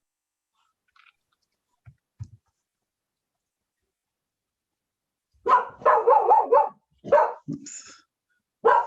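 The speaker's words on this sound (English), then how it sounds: "Excuse my dog." A dog barks in a quick burst of several sharp, close barks after a few faint earlier sounds, followed by a couple more barks near the end, in an otherwise quiet indoor room during an online meeting; someone briefly speaks.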